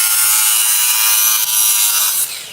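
A saw cuts steadily through 304 polished stainless steel with a loud, continuous high-pitched grinding rasp that tapers off near the end, heard close up with no talking.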